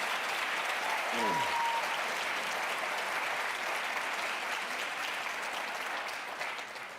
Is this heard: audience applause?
yes